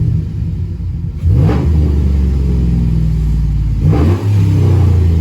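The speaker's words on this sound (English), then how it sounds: "let me just rev it out a little bit. Just can hear the exhaust." A Chevrolet Silverado engine fitted with a cold air intake revs up loudly and close by, with two distinct throttle blips over a steady deep idle rumble and exhaust note.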